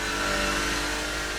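A Lister race car engine revving hard in Assetto Corsa, a loud steady mid-pitched roar with strong harmonic whine, heard alone and close.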